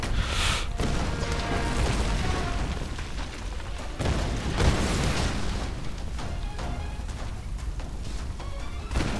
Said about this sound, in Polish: jak to wszystko tu wybucha